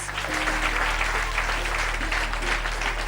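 A talent show audience in Darling gives steady, full applause for the newly announced winner, an even wash of clapping from many hands that continues throughout with a low hum underneath.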